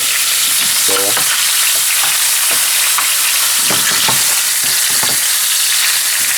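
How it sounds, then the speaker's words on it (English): Pork tenderloin sears in a hot pan with a steady broadband sizzle throughout, punctuated by scraping and stirring knocks from a utensil, close and fairly loud with no talk. "So as you can see, we sear them all around"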